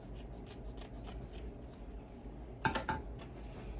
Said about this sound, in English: we're gonna go ahead and trim under there and cut that off